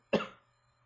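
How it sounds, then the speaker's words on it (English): A single short, sharp cough from a person with a congested chest, close and alone against near silence. "got a little bit of a cough"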